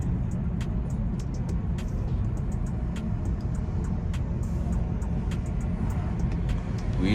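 A BMW 320i M Sport car drives along with a constant low road and engine rumble heard from inside the cabin, punctuated by faint ticking clicks, with no talking.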